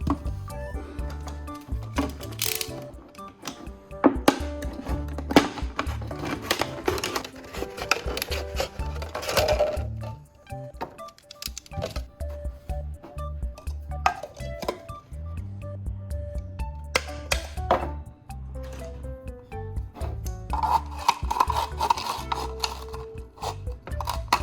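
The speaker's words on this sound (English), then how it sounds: "Next, I'll cut off a portion of the bottom of the plastic bottle." Irregular clicking, snapping and scraping as the bottom of a plastic bottle is cut off, with bursts of crunchy cuts and handling noises spread over about 25 seconds, close and fairly loud, no speech.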